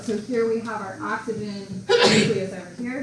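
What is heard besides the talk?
sneeze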